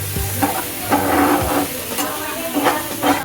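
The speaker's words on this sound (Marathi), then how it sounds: "मशरूम आहे ना मित्रांनो असं व्यवस्थित भाजून घेतात तेलामध्ये" Mushrooms frying in oil for mushroom and fenugreek parathas: a steady close sizzle and crackle with stirring scrapes and occasional clinks, no talking.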